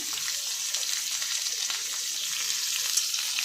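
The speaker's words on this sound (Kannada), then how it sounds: "ಈಗ ಇದೆಲ್ಲ ಸ್ವಲ್ಪ ಎಣ್ಣೆ ಚೆನ್ನಾಗಿ ಫ್ರೈ ಮಾಡ್ಕೊಳ್ಳೋಣ" Mutton keema ingredients fry in oil in a pan, giving a steady, moderately quiet sizzle that holds evenly throughout with no talking.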